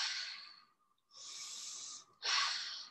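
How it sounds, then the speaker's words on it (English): Deep, slow breaths during a breathing exercise: a long airy inhale, a short pause, then two more sustained hissing breaths, the last one stronger, close and clear with no talking. "This deep breathing might make you a little dizzy."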